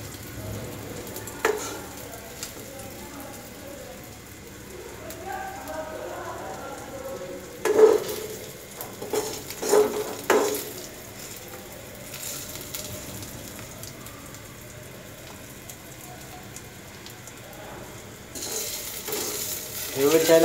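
An egg fries in a pan and is stirred now and then: a quiet, soft sizzle runs throughout, broken by a few brief scraping and clinking bursts from the spatula.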